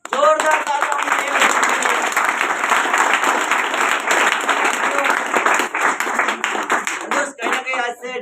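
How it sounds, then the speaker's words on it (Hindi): A large audience claps loudly and continuously at a recognition event in Sumerpur, dense applause that fills the room before thinning out near the end, with a few voices audible. "तो एक बार जोरदार तालियां।"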